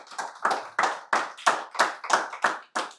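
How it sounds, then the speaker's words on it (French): A church congregation claps for Jesus in a steady rhythm, about nine sharp, loud hand claps evenly spaced, with no cheering voices. "Acclamez pour Jésus."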